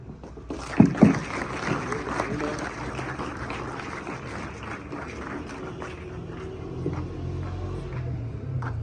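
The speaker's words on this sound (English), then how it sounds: "Once again, clap for him." An audience at a cadet ceremony claps after a speech. The applause is close, with a couple of sharp early claps, then a steady patter that thins out as other noise rises.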